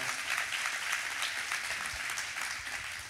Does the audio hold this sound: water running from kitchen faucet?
no